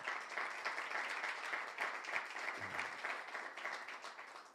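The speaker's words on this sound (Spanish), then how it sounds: "Dale un aplauso a Dios." A church congregation applauds at a Spanish-language sermon, steady dense clapping from many hands that fills the space evenly throughout, moderately loud with no voices standing out.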